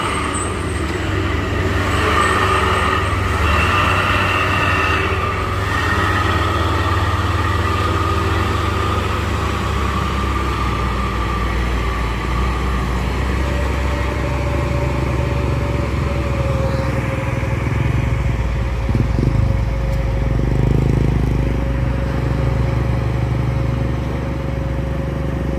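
Loaded trucks, a box truck and a dump truck, grind up Bukit Kodok hill with steady, loud low engine roar and strain, a rising whine joining midway, continuous throughout with no talk.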